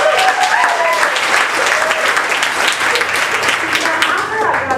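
A comedy-night audience at an accountants' charity fundraiser applauds loudly and steadily, the dense clapping carrying a few cheers and crowd voices within it.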